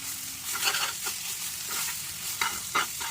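Banana flower curry being stirred in a frying pan, a close sizzle with a few scraping strokes of the spatula as the liquid cooks down.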